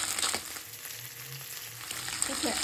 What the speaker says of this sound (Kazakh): Ең алдымен етті көбірек майда қуырып алуымыз керек.